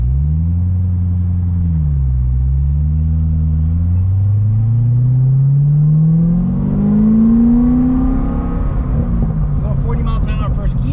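A 2009 Corvette ZR1 exhaust at wide open throttle. The deep, loud rumble climbs steadily in pitch for about eight seconds, then drops sharply at a gear change and settles into a rougher, lower note.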